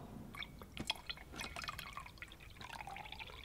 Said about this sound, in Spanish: añadiendo una pequeña cantidad de agua